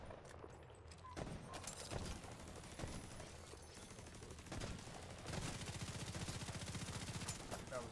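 Sustained gunfire in The Division 2 video game, with dense, continuous automatic shots and a steady rapid burst in the later part, loud and busy throughout.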